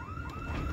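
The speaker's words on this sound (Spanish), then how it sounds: "¿y esa alarma?" A car alarm going off in the zombie survival game Project Zomboid, a steady rising electronic whoop, fairly faint and heard alone in a brief burst.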